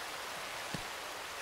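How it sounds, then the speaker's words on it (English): Steady rushing water from waterfalls in a climbing video game, a soft, even wash of spray that continues unbroken from start to finish, with one faint muffled knock near the middle. "it's peaceful cause of the waterfalls, the water sounds"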